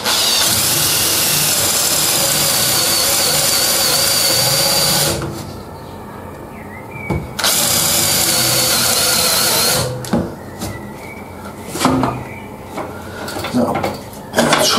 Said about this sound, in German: Und dann muss man nur noch gerade bohren.